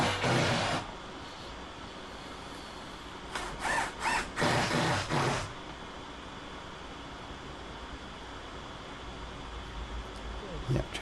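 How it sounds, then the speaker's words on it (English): Power driver sinking screws into plywood for a walk-out basement cover, short bursts of whirring and ratcheting, one near the start and a longer stuttering run midway, separated by quiet stretches. "trying to get these screws in is not an easy thing. It does go through the plywood"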